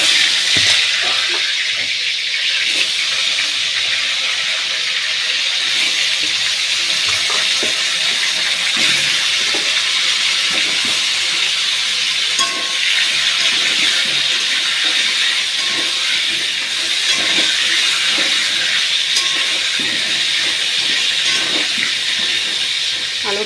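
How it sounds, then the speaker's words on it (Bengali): Potatoes fry in a pan of oil over cumin seeds in a home kitchen, giving off a steady, loud sizzling hiss with small crackles that runs unbroken for over twenty seconds. "এখন আমি আলুগুলো দিয়ে দেবো ভাজার জন্য।"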